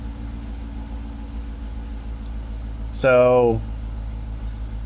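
An LS-swapped Ford B2200 pickup idles low with a steady, near rumble, and a voice speaks briefly over it.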